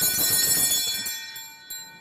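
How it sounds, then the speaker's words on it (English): Bright, ringing bell tones with a clear metallic shimmer that sustain and slowly fade, with a fresh strike near the end. "Are they still the same bells?"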